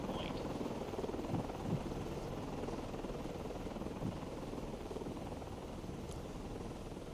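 A launched aircraft in the Cold Waters naval game flies with a steady, low, droning rotor-like hum that holds at a faint, even level throughout, with no speech.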